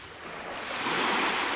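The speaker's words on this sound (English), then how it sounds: "I like jumping waves." Ocean surf on the beach at Kusadasi, Turkey, a wave rushing in and building to a loud, close wash of broken water and foam.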